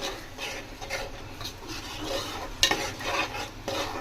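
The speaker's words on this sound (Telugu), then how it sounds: "ఇది బాగా ఫ్రై చేసుకోవాలా." Cumin and fenugreek masala fries and is stirred in a pan, a continuous sizzle with scraping strokes, one sharp clack near the middle, close and steady with no talking.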